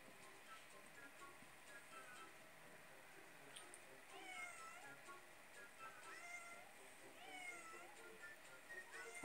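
Faint kittens meowing repeatedly in the background, thin high mews scattered over a quiet ambient hiss.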